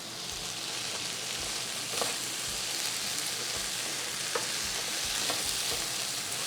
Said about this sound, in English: Now let's give it a stir.